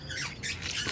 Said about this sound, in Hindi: मैंने कुछ तोते रखे हुए हैं, कुछ 70 से 80 तोते हैं